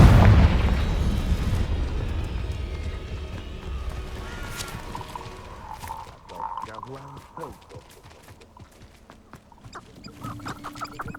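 A Confringo fire spell bursts with a loud, boomy explosion in the game Hogwarts Legacy, its rumble tapering off over several seconds into scattered clatter and small debris sounds.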